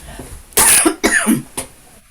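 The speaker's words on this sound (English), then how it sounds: "I'm going to cough" Several harsh coughs in quick succession, close and loud, with short pauses between bursts.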